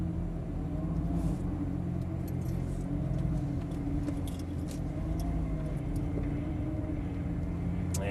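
A Lamborghini Gallardo LP550-2 pulling out easily, its engine a steady low rumble heard from inside with faint rattles and no sharp revving.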